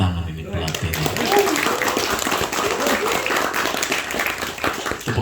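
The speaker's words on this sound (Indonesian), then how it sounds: "ini perlu dikasih tepuk tangan ini pelatihnya" A gathering audience at an Islamic religious talk breaks into sustained applause for a coach, a dense wash of clapping that fills the room steadily, with some voices mixed in.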